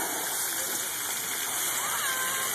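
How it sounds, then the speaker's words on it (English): Water-park splash-zone buckets spilling water, a continuous dense rushing splash that stays steady and fairly loud throughout the short stretch with no pauses. "These things fill up with water and then they dump on them."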